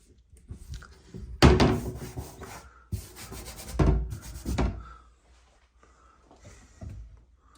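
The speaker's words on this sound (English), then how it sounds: "a lot of liquid sanding to do, a lot of scuffing up to do" Kitchen cabinets are scuffed by hand with an abrasive pad before painting. The result is close, uneven rubbing strokes in several bursts with pauses between them.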